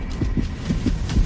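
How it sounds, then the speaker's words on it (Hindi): A quick heartbeat sound effect in a Hindi audiobook drama pulses in muffled low thumps, about five or six rapid beats in close succession, with no voice over them. "उसके दिल की धड़कनें इतनी तेज चल रही थीं"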